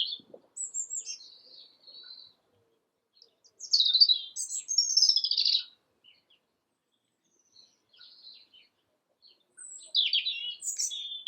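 Songbirds call outdoors in short, high chirping phrases separated by pauses, a few near and clear, others fainter, with no other sounds around them.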